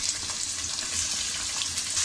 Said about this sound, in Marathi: टोमॅटो सुद्धा 2 मिनिटं आपल्याला छान असा परतून घ्यायचा आहे